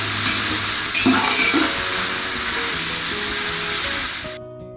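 Chicken pieces fry in a hot pan for chicken yakhni pulao, a loud continuous sizzle with clinks of stirring, fading slightly toward the end, with no talk.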